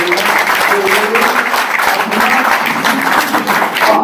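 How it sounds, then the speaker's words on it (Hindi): Loud, sustained applause from a crowd of students at a school talk show, a dense steady wall of clapping that carries through the whole moment. "तो जोरदार तालियों के साथ मैं अखलाक साहब का शुक्रिया करूंगा"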